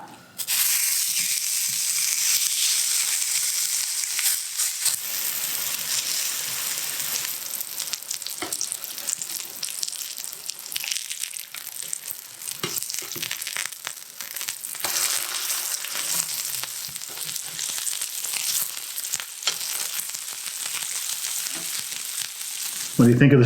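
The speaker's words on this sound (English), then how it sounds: "I got the cast iron skillet heating up behind me back there, so once that warms up a little bit, we'll throw this patty on there" Italian sausage patty frying in a hot cast iron skillet, a steady loud sizzle and crackle running throughout with occasional sharper pops and faint background voices.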